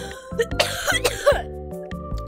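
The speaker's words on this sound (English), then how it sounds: "and a cough." A few quick, raspy coughs and throat-clearing sounds over a steady background of music.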